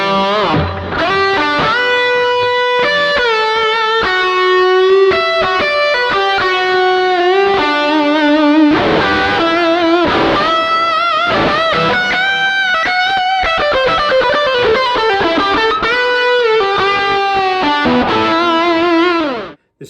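A wet electric guitar solo with stereo chorus, heavy reverb and delay, giving a processed 80s tone through a PRS and Mesa Boogie rig, flows loud and unbroken in quick runs and long bends before cutting off.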